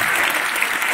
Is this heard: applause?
yes